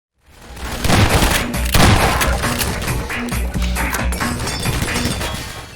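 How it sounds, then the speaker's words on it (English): Strider from the video game Half-Life 2 firing through a window, a sudden loud barrage of rapid heavy shots with crashing, clinking debris and thuds, sustained for several seconds without talk. "That's me scripting the strider to fire through the window at that point when the player is heading in that direction"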